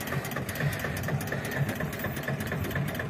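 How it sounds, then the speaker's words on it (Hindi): An Eicher tractor engine idles steadily beside a stuck garbage tractor, making a continuous, moderately loud mechanical rumble with a fine rhythmic chatter and no pauses. "ट्रैक्टर लेके आया है"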